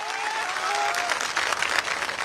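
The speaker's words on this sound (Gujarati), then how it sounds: "તાળીઓથી વધાવો" At a Kshatriya community gathering in Jamnagar, a large crowd claps steadily in a dense, continuous burst of applause, with a brief tone fading out at the start.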